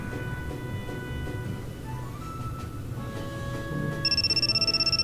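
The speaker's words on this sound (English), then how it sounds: "Makina, your cell phone seems to be ringing." Cell phone ringing in The Fruit of Grisaia visual novel, a repeating electronic ringtone that starts near the end and pulses in a quick regular rhythm over soft background music.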